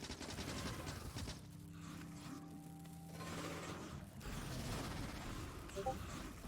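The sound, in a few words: grenades exploding in the Factorio video game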